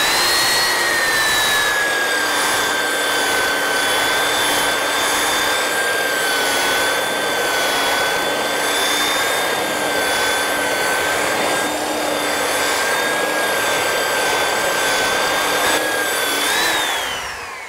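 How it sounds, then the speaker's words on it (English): A belt sander fitted with a 100 grit belt runs steadily across wood to remove mill marks, a loud continuous whine and abrasive rush that holds for the whole stretch before winding down at the end. Nobody talks. "the first tool you use for that is the belt sander"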